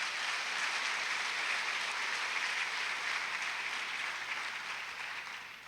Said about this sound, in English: Can we give those students a big round of applause?